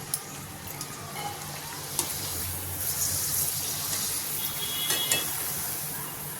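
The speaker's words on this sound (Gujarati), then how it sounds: "તેલમાં મૂકતાની સાથે જ પાપડ ક્રિસ્પી થઈ જાય છે" Thin homemade potato papad fries in hot oil with a steady, dense crackling sizzle throughout, close and moderately loud, with occasional brighter pops.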